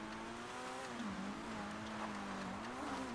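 Ken Block's rally car in the video game GTA 5 Online, its engine droning steadily with rising and falling revs and a hint of tire squeal, faint and continuous with no talk.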